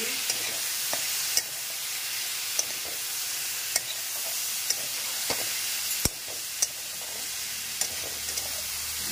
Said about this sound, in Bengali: চামচ দিয়ে একটু পাউডারটাকে মিলিয়ে দিলাম